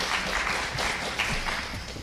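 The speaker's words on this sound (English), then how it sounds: "Please, a round of applause for our fantastic panelists." A crowd applauds panelists at a democracy forum steadily throughout, a dense wash of many hands clapping with no pauses.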